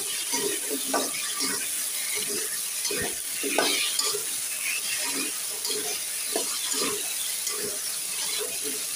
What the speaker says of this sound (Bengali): কচুটা সুন্দর করে কষিয়ে নিব।